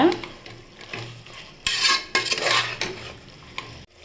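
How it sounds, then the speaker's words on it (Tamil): Capsicum is stir-fried in a pan for capsicum biryani, the food sizzling under a few loud scraping and clattering stirs of a metal spoon against the pan, close and with no talking. "கேப்சிக் கொடமிளகா சேர்த்து நல்லா வதக்கிக்கோங்க"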